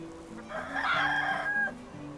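Chickens in the medieval farming game Medieval Dynasty, with a rooster giving one close, loud crow over soft background clucking and no talk.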